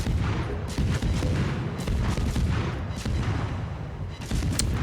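Repeated booming cannon shots as a destroyer fires SAP shells in World of Warships, a dense, loud rumble of rapid blasts layered over constant battle noise.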